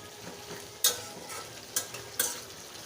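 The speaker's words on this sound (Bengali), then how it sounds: "আর একটু কষিয়ে নেব।" A spatula scrapes flat beans around a hot pan in a quiet kitchen, with three distinct scraping strokes over a soft, steady sizzle.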